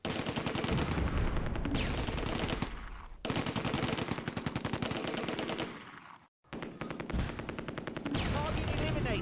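Rapid machine-gun bursts and sharp gunshots crackle almost continuously in a Close Combat World War II battle at Arnhem Bridge, with brief lulls between dense volleys of battlefield fire.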